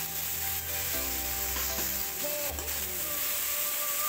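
Tomatoes and turmeric frying in a pan for egg curry, a steady sizzling hiss with occasional faint stirring scrapes, close and continuous throughout without talk.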